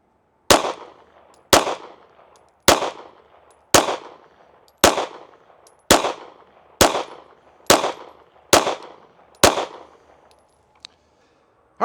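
Ten sharp gunshots fired one after another at an even pace of about one per second while shooting a group with a Gideon Optics Alpha red dot sight, each crack loud and close with a short ringing decay.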